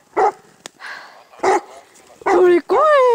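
A Weimaraner barks during a moose hunt in Estonian forest, several sharp close barks spaced irregularly and ending in drawn-out whining yelps, with someone talking in between.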